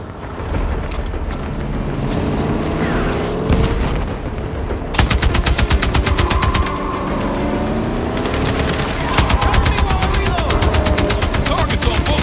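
Rapid automatic gunfire rattles through a video game shootout, with dense bursts of shots and a steady roar of combat underneath, while voices call out over the action.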